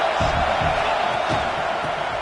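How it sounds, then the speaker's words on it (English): A stadium crowd in a video game football match roars steadily, a dense, loud wash of cheering with no break across the short stretch. "this crowd is turning it up a notch"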